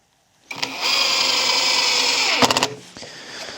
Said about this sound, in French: on a pu visser correctement notre vis. On a entendu juste à la fin, quand le matériau résiste un peu, on a entendu la cadence de frappe